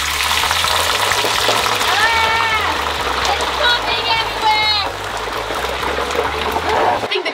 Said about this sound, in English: Now we fry it.